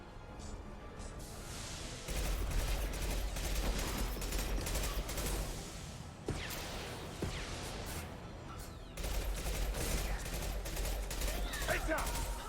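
Bursts of gunfire and heavy concussive shots ring out in the Mass Effect 2 video game, dense and loud, with game characters talking over the combat.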